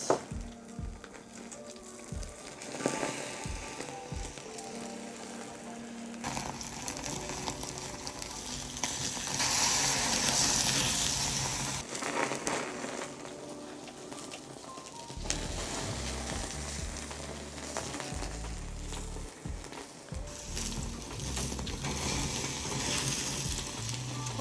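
Food crackling and sizzling over a campfire at a glamping site near Mt Fuji, a steady dense frying hiss with popping and shifting intensity, no talking.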